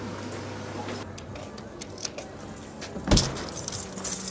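A bunch of keys jangles and clinks close by in short irregular bursts, with one sharper louder rattle near the end, over a low steady hum.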